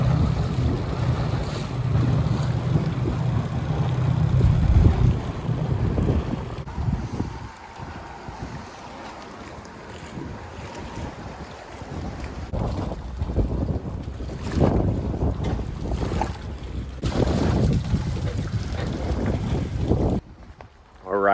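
A small skiff cruising over open water, a continuous rushing of wind, hull slap and spray close to the microphone, with heavy wind buffeting and surges in intensity throughout.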